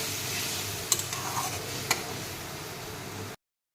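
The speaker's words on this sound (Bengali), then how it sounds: "আর দিয়ে দেব এক মুঠো মটরশুঁটি। এবার কষিয়ে নেব।" Green peas and ground spices for a magur fish curry being stir-fried in a pan, with a steady soft sizzle and a couple of light spoon ticks against the pan before the sound cuts off abruptly.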